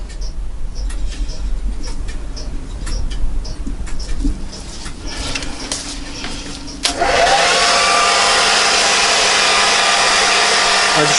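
An air dryer switches on at its low setting during a clock dial restoration, a steady broadband whoosh with a low hum that starts abruptly partway through after quieter workshop ticking and clatter.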